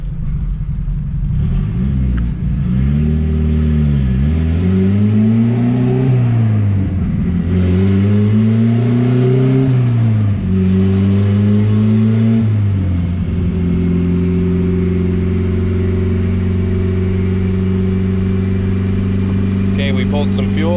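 A turbocharged B16A engine in an EK Honda Civic, spitting and popping at low duty cycle, revs up and down about four times in rising and falling sweeps, then settles into a steady higher hold, loud and close, with a voice talking over it.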